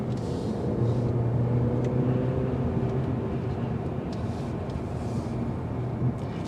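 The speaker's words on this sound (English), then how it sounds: "Now as you get up to speed, road noise filters in a little bit." A 2022 Mercedes-Benz C300 picks up speed on the road, heard from inside the cabin as a steady low drone of engine, tire and road noise that stays even throughout.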